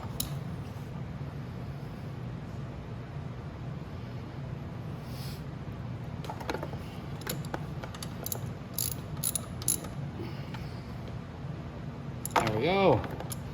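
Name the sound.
tightening chain adjuster on Venom E-Madix electric ATV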